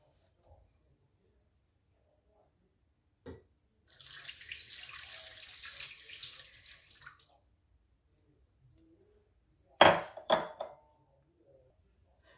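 Water poured into a Moulinex Companion Touch XL bowl while making chouquettes, a steady splashing pour lasting about three seconds, with a sharp clatter shortly after.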